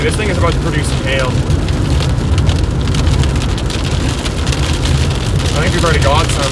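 Heavy rain mixed with hail drums hard and steadily on a car during a Canadian thunderstorm, a dense loud patter throughout, with voices talking faintly underneath.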